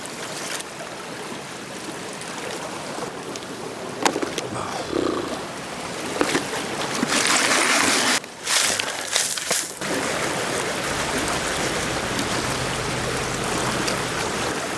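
A gold pan is swished and rinsed in a stream, water splashing and sloshing loudly up close over a steady rushing current for several seconds before settling back to the continuous flow.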